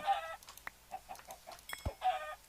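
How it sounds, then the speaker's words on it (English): Chickens in a Minecraft modpack give short, clipped clucks and a couple of squawky bursts, close and fairly loud, spaced irregularly with no talking. "What you looking at, chicken?"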